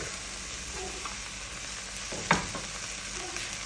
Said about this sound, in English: I'm just going to add in my 2 onions, my pepper, bay leaf, and my garlic.